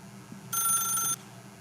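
A telephone rings once in The Stanley Parable, a loud, steady electronic trill lasting about half a second in the middle of an otherwise quiet game scene.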